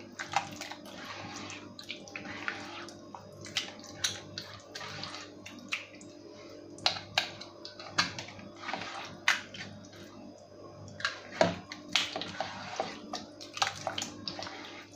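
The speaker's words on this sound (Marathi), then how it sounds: "मी हात स्वच्छ धुवून हाताच्या मदतीनेच हा गर व्यवस्थित मऊ करून घेऊ शकता." Cooked raw mango pulp being mashed and squeezed by hand for kairi panha, with water added: wet squishing and soft splashes with sharper slaps throughout, close by and alone.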